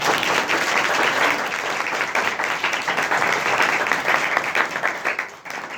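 A church congregation applauding loudly and steadily after a sermon, dense clapping throughout that fades slightly at the end.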